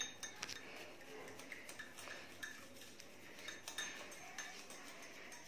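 A fork whisks dalgona coffee mixture in a bowl, quick continuous clinks and scrapes of metal on the dish, close up and fairly quiet.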